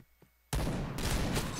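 Gunfire in the shooter game Point Blank, a sudden loud burst of rapid shots that starts after a quiet moment and keeps crackling close up to the end.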